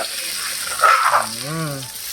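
Southern Thai curry paste dry-roasts in a pan for steamed chicken, a soft steady frying hiss with a brief louder rustle and a short rising tonal whine over it.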